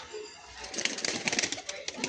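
Kalpora Kalduma pigeons flutter and flap their wings in quick bursts, close by, with low cooing mixed into the rustling.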